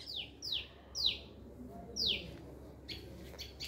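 Four or five bright, high chirps from small birds, each a quick downward-sweeping note, spaced irregularly and fairly close, over a low background hum with no talking.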